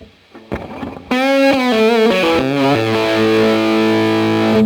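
A distorted electric guitar, played without hand damping on the bridge, rings out loud and sustained, notes bleeding into each other with long open resonance after a few short plucked attacks.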